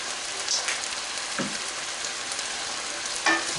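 Prawn lime noodles fry in a pan while being stirred, a continuous close crackling sizzle with a couple of brief scraping knocks from the utensil.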